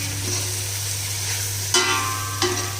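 Already cooked mutton, about half a kilo, added to clear hot oil for a Kerala mutton curry, giving a soft steady sizzle over a low hum, with two sharper bursts of frying noise near the end.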